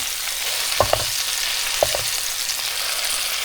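One pound of 70/30 ground beef browns in a pan, a steady close sizzle broken by two pairs of short scraping knocks from the spatula, with no talking.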